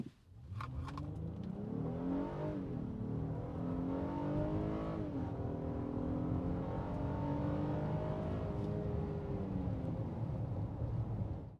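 A 2026 Honda Ridgeline TrailSport midsize pickup with a V6 revs up from a stop in normal mode, its pitch climbing steadily through the gears as it accelerates hard and stays loud throughout.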